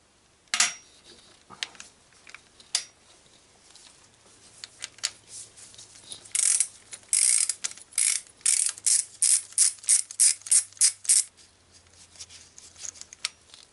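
A ratchet wrench works on a Torx 50 bolt of a car air-conditioning pulley on a Renault Rodius: close, sharp metallic clicks, first scattered, then a fast run of rhythmic ratcheting strokes, with no talking.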